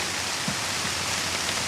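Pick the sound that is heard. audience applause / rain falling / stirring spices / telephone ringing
rain falling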